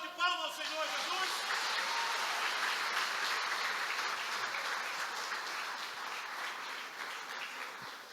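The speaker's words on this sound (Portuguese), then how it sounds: "Pode dar uma salva de palmas ao Senhor Jesus?" Congregation in a church service clapping together in praise of Jesus, a steady dense wash of applause that runs about eight seconds and tapers slightly at the end, with a voice speaking briefly at the start.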